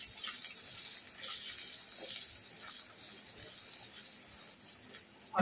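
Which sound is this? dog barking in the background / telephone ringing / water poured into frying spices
water poured into frying spices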